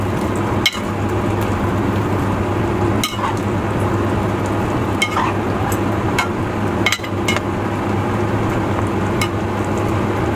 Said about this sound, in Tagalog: At ating ilagay yung ating carrots and patatas.